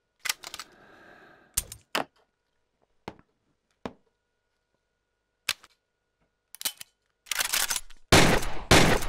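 Assault rifle fire in Gun Club VR, in a S.W.A.T. setting: isolated sharp single shots crack out separately with silence between them, then rapid loud bursts close together near the end.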